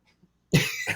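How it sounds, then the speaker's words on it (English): A single harsh cough bursts out after a near-silent pause, close and loud, with a rough second push at the tail. "I do have quite the cough today."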